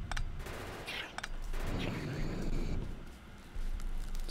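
Gun turrets fire at biters in Factorio, giving rapid, loud bursts of gunfire over a steady, dense rumble of battle noise.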